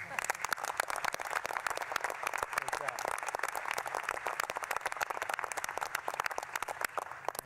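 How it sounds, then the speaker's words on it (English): Steady round of applause from the audience at a National Space Council meeting, dense continuous clapping at an even level from start to finish, heard from some distance. "I think that's worth a round of applause."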